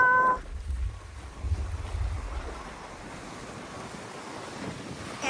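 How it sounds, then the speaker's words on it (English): On a super windy afternoon, a strong gale blows across open water, roaring low against the microphone while waves wash and hiss steadily beneath it, fairly loud and continuous. "And this is how the water is looking right now. Look at that! Oh my god! The wind is very strong."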